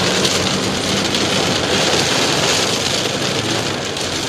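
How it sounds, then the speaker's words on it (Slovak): Steady, loud rain falls continuously over a garden, a dense hiss with no break throughout. "Tu začína pršať najviac."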